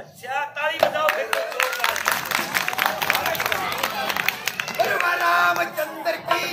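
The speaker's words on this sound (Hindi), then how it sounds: "अच्छा ताली बजाओ फिर" Audience at a village Ramlila performance of the Ramayana in Dang Khurd, Bhiwani, breaking into a burst of clapping amid crowd chatter and shouting, loud and busy throughout.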